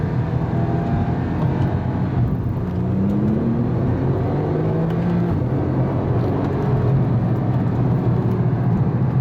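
A Porsche 911 Turbo PDK laps the Tor Poznan race track, its engine a steady, loud whir from inside the car with a slowly rising and falling tone as it drives smoothly, no talk.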